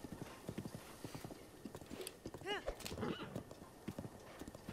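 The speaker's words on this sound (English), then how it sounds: "Burger Queen is the smartest horse." Rhythmic hoofbeats clip-clop steadily while a horse in The Legend of Zelda: Breath of the Wild lets out a short, rising whinny midway, with a voice talking underneath.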